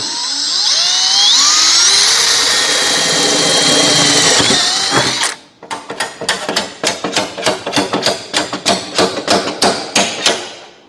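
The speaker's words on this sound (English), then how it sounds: "So I'm just going to drill this one out all the way through." A high-pitched drill whines steadily for several seconds drilling out a spot weld on a Ford Capri door skin, then breaks into a rapid series of sharp metallic clatters and knocks.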